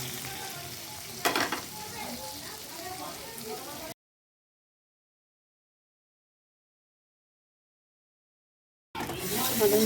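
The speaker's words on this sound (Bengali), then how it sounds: "আমাদের মশলাটা ভাজা হয়ে গেছে" Ginger-garlic paste with chilli, cumin, turmeric and salt frying in a pan for a besan bara curry, a close sizzle with a brief sharp burst near the start, then a gap of silence before the sizzling returns louder.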